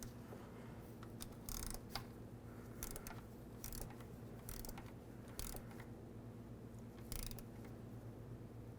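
A torque wrench tightens timing belt bolts on a Dodge Journey engine, making faint, intermittent ratcheting clicks in short bursts over a low steady background hum.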